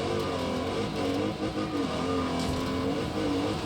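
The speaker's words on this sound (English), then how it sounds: "Just listen to that engine note." A racing car engine in the Wreckfest 2 video game drones loud and steady throughout, a continuous harsh note with slight pitch wavering and no voice over it.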